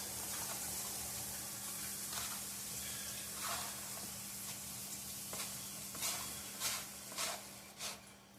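Food roasting in a pan is stirred, a steady soft sizzle with a low hum beneath, broken by scraping strokes that get louder and sharper toward the end.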